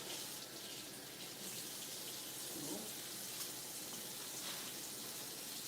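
Tap water runs steadily into a sink while pieces of flounder are rinsed under it, a continuous hiss of flow with small splashing changes and no talk.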